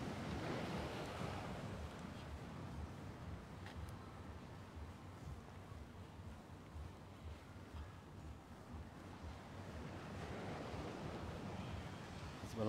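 Sea surf at the beach promenade in Side in the evening, a continuous rushing wash of waves with wind noise, swelling at the start and again near the end, no talk.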